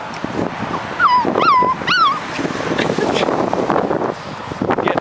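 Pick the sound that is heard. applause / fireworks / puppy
puppy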